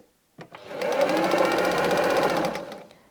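A domestic sewing machine runs steadily for about two seconds while backtacking seams on a patchwork fabric bag, a close, even whirring burst with a brief quiet lead-in.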